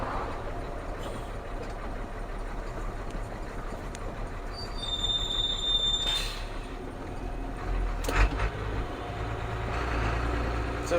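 A CF7000 truck with a 6.6L diesel engine drives in fifth high gear, giving a steady close rumble and road noise throughout, with a brief whine in the middle and a sharp knock near the end.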